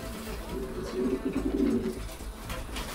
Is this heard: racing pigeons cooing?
yes